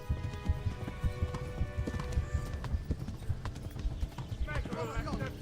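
Horse hooves clip-clopping in a video game, a steady rhythmic trot of hoofbeats throughout, with a faint whinny and game sounds layered around it.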